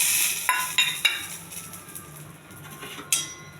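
Cashews frying in ghee in a hot pan, with a soft steady sizzle broken by a few sharp clinks of a spoon against the metal as they are stirred.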